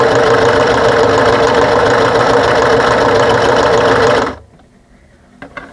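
A sewing machine stitches a lanyard in one loud, steady, close-up run of rapid needle strokes for about four seconds, then stops abruptly, leaving near silence with a faint click.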